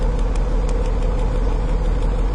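A car engine running rough with low power idles close by with an uneven, lumpy rhythm, its steady rumble broken by irregular pulses.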